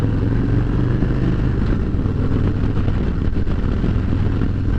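A 2023 Harley Davidson Road Glide Special pulling away on light throttle, a steady low, heavy engine rumble with wind noise, close and continuous without talk.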